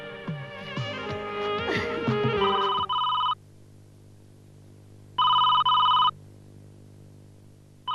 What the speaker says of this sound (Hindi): ये जरूर जय का ही फोन होगा।